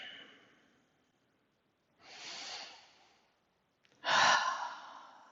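Long breaths during a yoga session: a fading exhale, then two separate breaths through the nose or mouth, the last louder and closer, with silent gaps between them and no talk.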